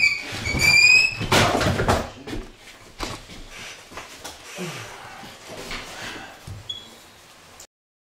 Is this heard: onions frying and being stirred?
no